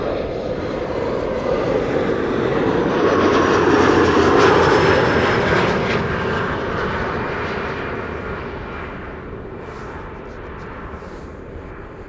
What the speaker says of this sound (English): KLM flight 1070 arriving from Southampton, Embraer